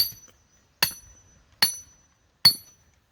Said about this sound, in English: Works better using a real hammer.